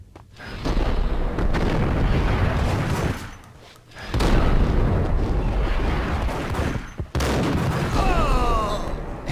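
Sustained gunfire from the PC game Max Payne, loud, dense bursts filling most of the stretch with two short pauses, booming shots overlapping one another.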